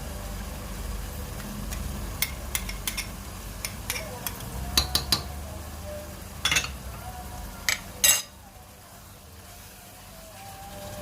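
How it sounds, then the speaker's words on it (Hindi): A spoon scrapes and clinks against a pan while ginger-garlic-green chili paste is stirred and roasted, with scattered sharp taps over a low steady sizzle, close by and fairly quiet. "अब इसको अच्छे से भूनेंगे"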